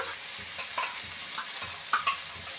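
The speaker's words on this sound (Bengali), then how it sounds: "পেঁয়াজটা একটু বেশ ভালো করে ভেজে নিয়েছি এখানে দিয়ে দেবো এক চামচের একটু কম রসুন বাটা" Garlic paste hits well-fried onions in a pan, a steady sizzle with scraping stir strokes and a few louder clinks of the spoon, close and alone without any voices.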